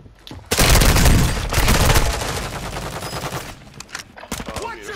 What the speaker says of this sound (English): I hear so much shooting.